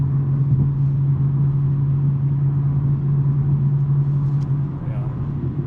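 A BMW M3 with a six-speed manual gearbox cruises along, its engine and exhaust holding a low, steady drone beneath conversation inside the car.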